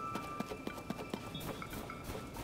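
Horse hooves galloping in The Legend of Zelda: Tears of the Kingdom, a quick rhythmic clip-clop of several beats over faint game ambience and a soft tonal hum.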